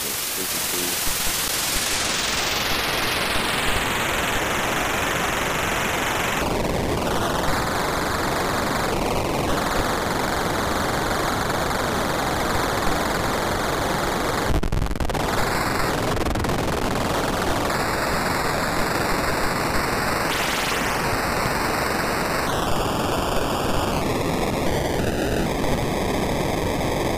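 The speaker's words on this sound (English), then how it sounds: "we have a missile sound" A synthesized missile sound effect for a Star Fox-style 3D rail shooter: a loud, continuous noisy roar with falling and stepping tones sweeping over it, broken by brief cuts, running long and alone without talk.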